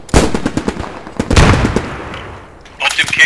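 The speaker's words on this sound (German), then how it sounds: "Auf dem Kirk, das ist so ein feindliches MG" An enemy machine gun fires in the Post Scriptum war game on the Driel map, with loud, close, rapid bursts that stop briefly and then start again.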